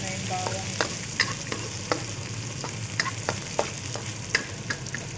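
Onions and garlic sautéing in a pan, the garlic already slightly burnt, give off a steady sizzle and fry under repeated sharp scrapes and taps of a utensil stirring, close and fairly quiet with no talking.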